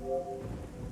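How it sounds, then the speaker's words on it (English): Rain in the video game Garry's Mod on the GM_Construct_Rainy map: a soft, steady patter of rainfall with a faint low rumble, brief and quiet, with a short tonal hum at the start. "I like rain. This rain is always cool."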